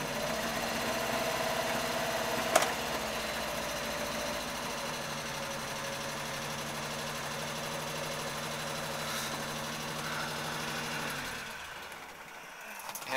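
A Triumph Herald 13/60 engine idles with a steady, even mechanical chatter and rhythmic ticking, close by and unbroken for most of the stretch before briefly dropping near the end.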